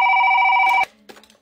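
A telephone rings loudly for most of a second in a steady electronic trill, then cuts off abruptly, leaving quiet room noise and a few faint sounds.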